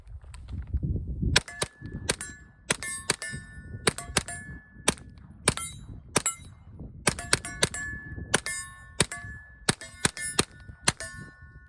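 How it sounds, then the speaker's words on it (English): A rapid series of about fourteen muffled gunshots from a Polonium 30 suppressor with subsonic ammo, each sharp crack followed by a ringing metallic clang from steel targets. "I can shoot this Polonium 30, again, much bigger suppressor, without Ear Pro, with subsonic ammo"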